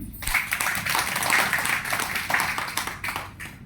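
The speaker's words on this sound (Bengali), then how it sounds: "আমাদের রাজনাথ চৌধুরী তার জন্য সবাই এটা করতালি" An audience claps throughout the inauguration of an international literary conference held by Kabyer Alo Sahitya Parishad, a dense, close burst of applause that swells and then thins out toward the end.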